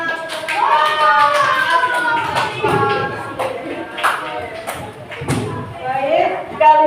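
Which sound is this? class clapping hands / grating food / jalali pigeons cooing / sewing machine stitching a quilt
class clapping hands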